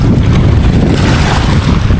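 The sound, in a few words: strong wind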